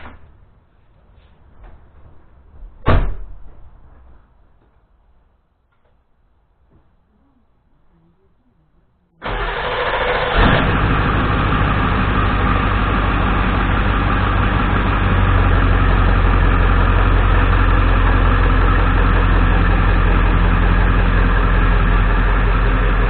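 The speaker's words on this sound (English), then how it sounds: "truck runs good on that long crank thing, and which you'll see here, and then I'm gonna fire up and back it up here" A 1997 Ford F350 diesel pickup sits quiet apart from faint handling noise and a sharp knock, then after a brief crank fires up and settles into a loud, steady low rumbling idle that runs unbroken for about fourteen seconds.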